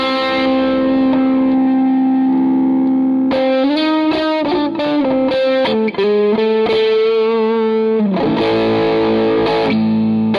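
An electric guitar through a Zoom G1Four multi-effects pedal with an amp simulator and tube screamer overdrive, loud and distorted, holding a sustained note and then playing sliding melodic phrases and chords alone.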